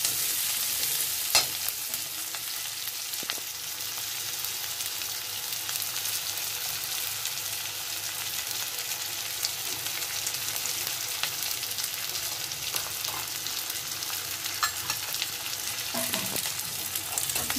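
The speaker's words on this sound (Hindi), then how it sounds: "लहसुन, प्याज और अदरक को एक साथ ही डालकर भून सकते हो" Garlic, onion and ginger frying together in oil in a pan for halwai-style potato and cauliflower curry, a continuous soft sizzle with occasional spatula scrapes and taps, close and steady, with no voices.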